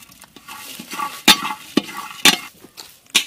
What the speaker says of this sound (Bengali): উপর থেকে দিয়ে দেবো ঘি। গোটা গরম মশলা ভেজে নেব।